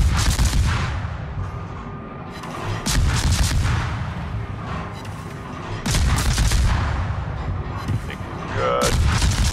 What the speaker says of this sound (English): There's some gunfire I want to see.